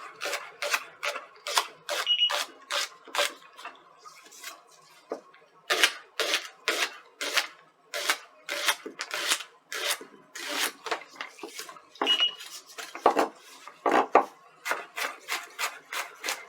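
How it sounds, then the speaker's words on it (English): A knife chops a shallot on a wooden board in a home kitchen, making quick, close, crisp taps in rapid bursts separated by short pauses. "we're going to go ahead and get my shallot chopped up"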